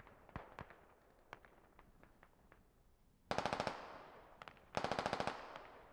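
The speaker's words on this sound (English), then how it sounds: "Just defensive artillery now." An artillery barrage in a video game battle with mechanized troops against insurgents in Pakistan: scattered distant cracks, then two sudden dense salvos of rapid, rattling blasts, each lasting about a second.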